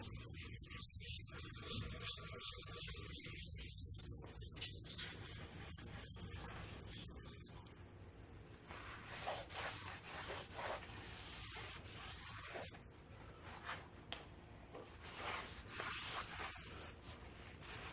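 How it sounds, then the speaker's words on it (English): Steady rubbing and scrubbing as K.O. Lee B2060 machine parts are wiped down with lighter fluid, continuous and close with brief hissy swipes, no talking. "I typically do this until the lighter fluid just forms a nice little film that I can wipe off."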